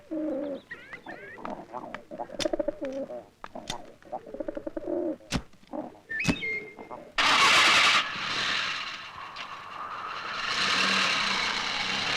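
A car engine cranks and catches, bursting into a loud steady idle after a stretch of bird cooing and scattered clatter.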